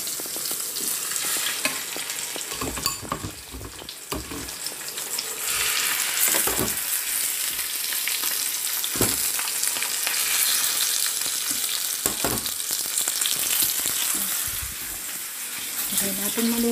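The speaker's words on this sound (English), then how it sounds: "iluluto natin ang ating steak tuna" Tuna steak frying in a pan gives a steady, close sizzle that runs the whole time, with a few sharp clatters mixed in and no voices.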